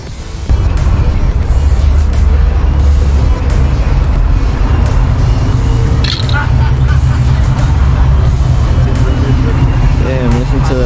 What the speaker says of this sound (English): listen to that Pro Charger supercharger